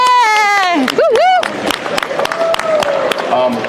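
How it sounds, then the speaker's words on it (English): A crowd at the Fully Charged LIVE US 2022 electric vehicle show in San Diego, California, claps and cheers for Aptera ambassadors, with loud whooping voices rising over dense, steady applause. "Round of applause for all the Aptera."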